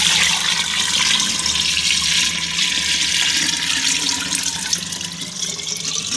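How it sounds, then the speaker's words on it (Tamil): Tap water pours steadily into a clay pot, a loud, close, continuous splashing gush that holds through the whole stretch without speech. "அப்படியே இந்த பானையில் தண்ணியை ஊற்ற வேண்டியதான் ஃப்ரெண்ட்ஸ்."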